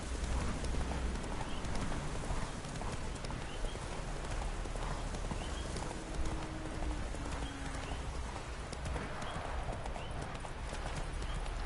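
Hooves of Roach, the horse in The Witcher 3: Wild Hunt, clopping steadily and continuously over a dense, loud game soundscape, with a brief whinny-like tone partway through.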